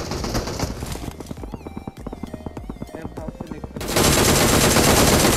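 Rapid automatic gunfire in a battle-royale shooting video game, dense bursts of shots mixed with game effects and music, then a sudden loud wash of noise near the end, with a player talking over it.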